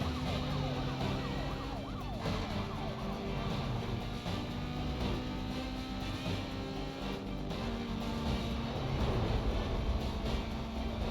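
Police car sirens wail through a chase in the Need for Speed: Most Wanted video game, loud and continuous with layered rising and falling tones over constant engine roar.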